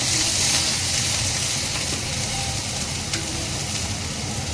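Potatoes and slit green chillies sizzle loudly in hot oil in a pan for a vegetable curry, a steady, close, hissing fry with no talking.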